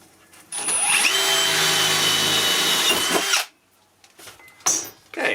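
A power drill bores through kiln sheet metal in one steady, loud whine of about three seconds, then cuts off, leaving a few faint clicks and scrapes.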